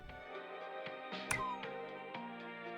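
A cat meows in the video game Centum, a short rising cry heard once, close and clear, over steady musical game tones with no talking.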